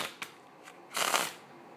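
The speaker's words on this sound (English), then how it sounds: "I'm going to shuffle the deck" A deck of playing cards being shuffled for a card trick, heard as a few soft riffling bursts followed by a longer, louder flurry of card noise near the end, close up with no talking.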